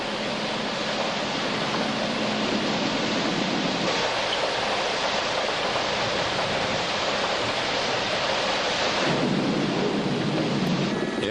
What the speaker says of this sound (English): this whole area is still under rain and it's pretty well drenched